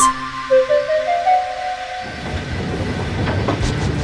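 A toy steam train's whistle rises in a few stepped tones, then gives way to a steady puffing, rattling run along the track, loud and close.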